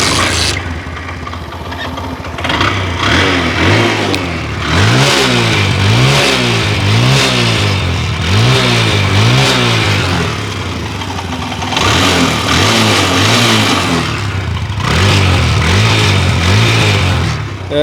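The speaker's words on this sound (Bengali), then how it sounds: "এবার আপনাদেরকে গাড়ির ইঞ্জিনের সাউন্ডটা শোনাই দিই।" An LML Freedom 125cc motorcycle engine revs close by, with repeated throttle blips that rise and fall in a steady rhythm over a running idle, alone and loud.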